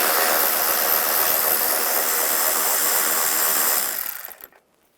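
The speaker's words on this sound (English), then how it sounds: "We'll take this nut off." A 10mm socket wrench spins a nut off a ground strap on a 2007-2013 Chevrolet Silverado 1500 during hood hinge work, making a dense, loud, continuous ratcheting buzz up close for about four seconds before it abruptly fades out.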